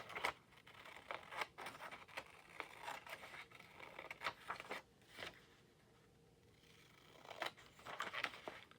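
Quiet crafting cuts, a series of crisp snips and rustling scrapes in irregular bursts with a brief lull midway, close and soft, no speech.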